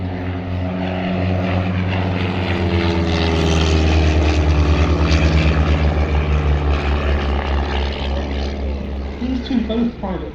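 Two privately owned ex-RAF vintage propeller aeroplanes, a lead aircraft built in 1950 followed by a red and white one, fly past at an airshow at East Kirkby, their engines a steady loud drone that swells as they pass, with a commentator talking over them.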